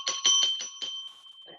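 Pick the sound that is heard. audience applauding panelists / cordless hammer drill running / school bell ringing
school bell ringing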